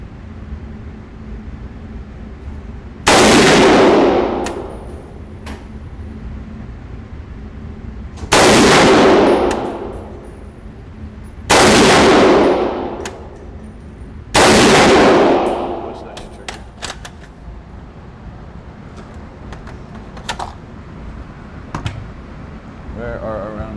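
Four loud rifle shots from a PTR G3 clone fired during a precision accuracy test, each a sharp blast with a ringing tail, spaced a few seconds apart, with faint speech murmuring between them.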